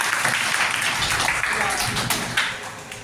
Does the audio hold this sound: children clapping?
yes